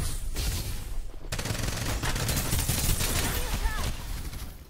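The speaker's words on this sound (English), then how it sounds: "Time for some artillery." Artillery fire in the video game Bugfall, a dense, continuous barrage of rapid blasts and crackling gunfire, loud and sustained, with a brief lull near the start.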